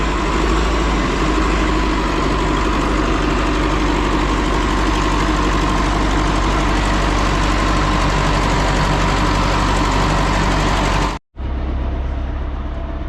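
A loader's engine runs at a steady, loud idle at a salt mine in Makrach village near Khewra, its heavy drone unbroken until it cuts out briefly near the end and then returns.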